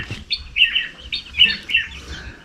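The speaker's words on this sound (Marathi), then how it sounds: "पक्षी असा ओरडतो कुठेतरी" Bird calls ring out in repeated bright chirping bursts, about four or five phrases, over faint background noise.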